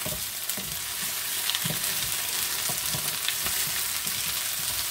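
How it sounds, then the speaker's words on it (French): Steady close sizzling of rabbit frying in a pan, a constant hiss with small crackles and pops scattered throughout. "le bruit de la cuisson"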